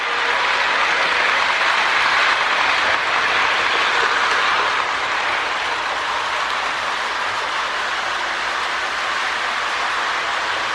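A Lionel sounds tender, being repaired and not very loud, plays a continuous broadband rushing of a moving train, steady and unbroken throughout, with no voices.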